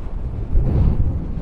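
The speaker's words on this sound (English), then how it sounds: "Bloody hell, it is windy" Strong wind gusts across the derelict Clarence Graving Docks in Liverpool, a loud, continuous low roar buffeting the microphone with no voices.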